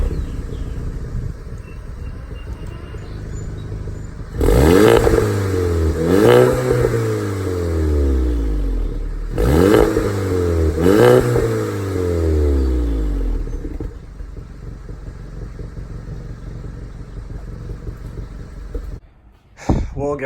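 An MK7 Volkswagen GTI fitted with an APR downpipe and a JB4 tuner is revved twice near by. Each rev rises in a loud surge and falls back to a steady idle, with clattery engine noise between the revs.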